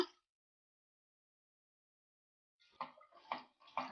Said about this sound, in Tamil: அந்த பாத்திரத்தை மட்டும் கொஞ்சமாக அலசி தண்ணி சேர்த்துக்கலாம்.